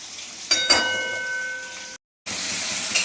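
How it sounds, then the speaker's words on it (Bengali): Mustard seeds and dried chilli sizzle in hot oil with a close, steady hiss and a couple of sharp crackles early on; the sound cuts out briefly near the end, then resumes. "সর্ষে ফোড়ন দিয়ে দিয়েছি, শুকনো লঙ্কা ফোড়ন।"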